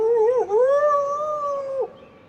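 Dog howl sound effect from a dog food commercial: one long, loud, wavering howl that rises, holds steady, and then drops off sharply, close and clear with no talking over it.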